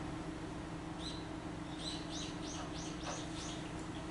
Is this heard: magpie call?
yes